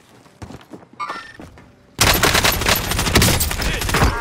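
Gunfire in Call of Duty: Modern Warfare, a few scattered shots and thuds first, then sudden dense automatic fire that stays loud and continuous to the end.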